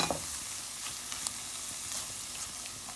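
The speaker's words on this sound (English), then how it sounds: "I'll mix it up together so I can cook out some of the rawness from the tomato paste" Tomato paste sizzling in a pot for stew as it is stirred, a close, steady crackling hiss with a few soft scraping bumps.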